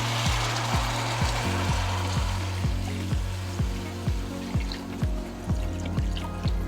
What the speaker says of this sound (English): We can add some water, just enough to cover everything.